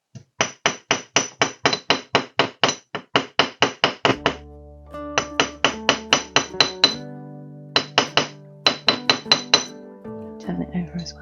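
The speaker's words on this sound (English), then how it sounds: "So let's go back to the hammering." A hammer strikes wire on a hard block while shaping a wire-wrapped pendant, flattening round wire into a rectangle; rapid loud metallic taps come in bursts with short pauses, a faint ringing note under some blows.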